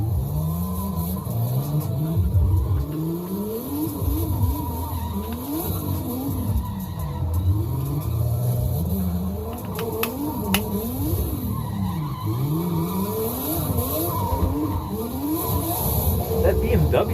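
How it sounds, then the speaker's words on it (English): A BMW straight-six races past repeatedly, revving hard and rising and falling in pitch as tires squeal and skid, loud and continuous throughout with the engine note swooping up and down. "That BMW, I think that's straight 6."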